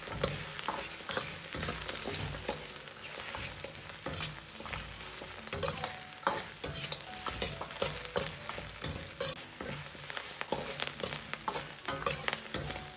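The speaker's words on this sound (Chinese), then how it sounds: "翻炒大概2分钟左右，炒至羊肉表面稍微有点焦黄，接着下入姜葱继续翻炒。" Mutton with ginger and scallion stir-fried in a wok, making steady sizzling with frequent scraping and clattering stir strokes that run continuously and close up throughout, with no voices.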